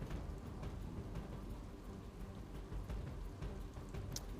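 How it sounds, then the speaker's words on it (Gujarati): Steady monsoon rain patters down continuously over Junagadh district in Gujarat, a soft dense hiss of drops with no voices. "માળિયા હાટીનામાં અનેક વિસ્તારોમાં વરસાદ ખાબક્યો છે"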